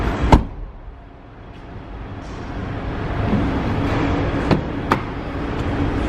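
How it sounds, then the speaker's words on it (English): Rear seats of a 2014 Nissan Rogue S fold down inside the car, with a few sharp clunks and latch clicks over a steady background rumble of the interior. "Fold down rear seats."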